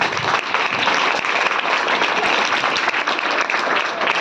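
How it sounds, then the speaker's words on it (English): Audience applause at a school Diwali celebration, dense steady clapping from a crowd, loud and continuous throughout without a break. "So give him a claps for that."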